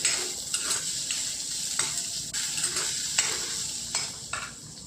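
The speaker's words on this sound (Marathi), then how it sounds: "2-3 मिनिट कांदा परतून घेऊ आपण" Onions sautéing in a pan for a Maharashtrian onion-potato curry, a steady close sizzle of frying broken by repeated scraping strokes of a spoon stirring them.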